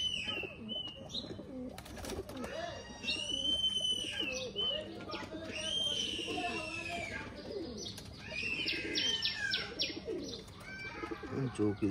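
Naktona pigeons from Khulna coo repeatedly up close, with bursts of chirping, scuffling and a brief wing flutter as the birds are handled, steady and fairly loud throughout.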